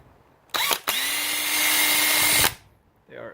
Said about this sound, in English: I'm going to take out these screws that hold together the side case